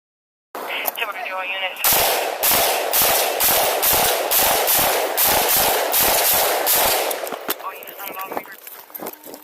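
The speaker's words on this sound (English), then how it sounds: "sees a man standing in the front yard of the house firing a rifle at it" Rifle gunfire from a man shooting at a house from its front yard during a police call: a rapid run of loud, close, sharp shots at an uneven pace, then quieter noise trailing off.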